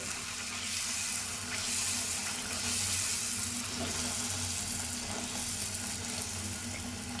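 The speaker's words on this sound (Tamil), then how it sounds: "இப்போ இன்னொரு பூரி போடுறேன் பாருங்கள்" Puri frying in hot oil, a steady broad sizzling hiss that runs throughout, close and moderately loud, with no voices.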